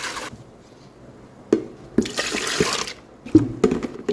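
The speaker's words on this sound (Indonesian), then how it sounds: "ini kacang kedelainya yang terakhir sudah dikupas. Kita tuang ke dalam baskom atau wadah." Peeled soybeans and water being poured into a basin while making homemade tempeh, with splashes and bursts of running water and a few knocks, no talk.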